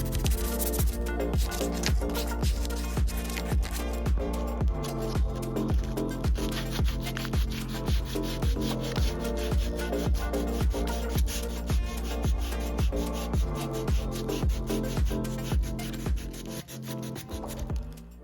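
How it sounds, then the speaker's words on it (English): Sandpaper rubbed by hand over wood filler on a piece of furniture, a fast, regular back-and-forth scratching rhythm, close and steady throughout before easing off at the end. "a little bit of hand sanding while the wood filler dries"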